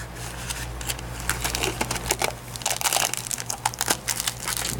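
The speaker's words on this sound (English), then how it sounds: "we're going to wrap that chain up in a piece of foam, like this, and we're going to throw a piece of tape around that." Foam padding is wrapped around a chain and bound with tape while repacking a StreetStrider 3i or 7i, giving steady crinkling, crushing and rustling with brief sharp tape pulls, close and fairly loud.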